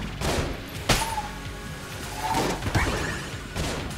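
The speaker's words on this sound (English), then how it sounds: "he shot off a lot of bullets" An enemy in the dungeon-crawler game Enter the Gungeon lets off a volley of bullets, giving loud bursts of crackling shots and whooshing projectiles in uneven clusters over about four seconds, with no speech.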